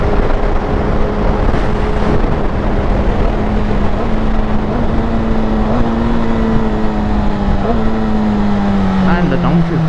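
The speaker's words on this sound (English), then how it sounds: "And the downshift sound." Loud, close engine revving with falling and rising pitch sweeps as a Kawasaki Ninja ZX-10R downshifts in traffic, over rushing wind.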